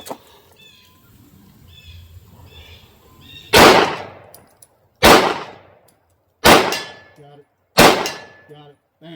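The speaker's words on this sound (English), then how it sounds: "So we'll just throw 3 or 4 rounds and see, make sure that we're still be able to hit" Four sharp gunshots fired at targets 60 yards out, evenly spaced with short ringing tails, after a quieter lead-in with faint bird calls.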